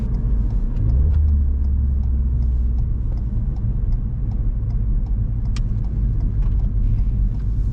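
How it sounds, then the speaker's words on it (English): A car's engine rumbles steadily from inside the cabin while downshifting into second gear with the heel-and-toe technique; a quick throttle blip briefly raises the revs early on before the drone settles, with faint clicks over it. "we quickly push the accelerator to increase the engine speed."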